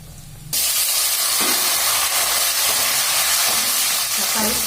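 Garlic drops into hot oil in a pan for a fish curry and sizzles loudly, a steady bright hiss of frying that starts abruptly and continues alone.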